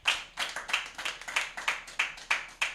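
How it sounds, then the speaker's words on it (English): Applause at a talk on assisted conception, though it sounds like a single pair of hands clapping in a steady rhythm of about a dozen crisp, moderately close claps. "Please, a round of applause for Doctor."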